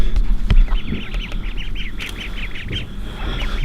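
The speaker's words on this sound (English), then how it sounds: "check out the duckies" Ducks quacking near a waterfall on a travel outing, a close run of loud, evenly spaced quacks over outdoor background noise and handling thumps.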